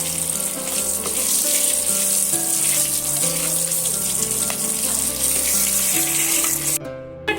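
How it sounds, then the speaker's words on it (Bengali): Cardamom, cloves and dried red chillies fry in hot oil, making a loud, steady sizzle beneath background music that cuts out abruptly near the end. "আমি সমস্ত মশলাগুলো ভাজা ভাজা করে নেব"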